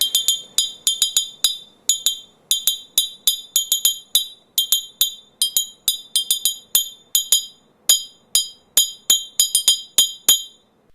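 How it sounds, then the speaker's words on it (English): A found piece of metal struck as a percussion instrument rings out with bright, clear metallic strikes, repeated in quick uneven rhythmic patterns, each hit close and loud with a short ringing decay. "Here's a percussion instrument made from a piece of metal that we found lying on the ground."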